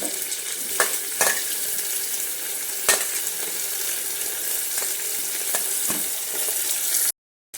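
Onions and tomatoes fry in a pressure cooker for chicken biryani, giving a steady close sizzle broken by a few sharp clinks of stirring.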